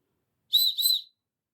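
A small whistle from an everyday carry kit gives two quick, shrill back-to-back blasts, close and loud against silence.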